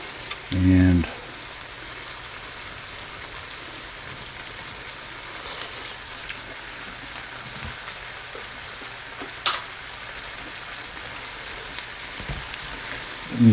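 Pork sisig frying in a pan, a soft steady sizzle under occasional brief clatters and handling noises, close by.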